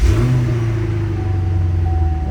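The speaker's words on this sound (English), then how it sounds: "Oh, those loudmouth mufflers sound killer on this car." A 2012 Chevrolet Camaro SLP ZL560 fitted with loud mufflers fires up close by. A quick cranking burst settles into a deep, steady, throbbing idle rumble.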